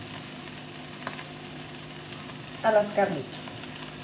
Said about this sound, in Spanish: Vamos a vaciarle nuestro adobo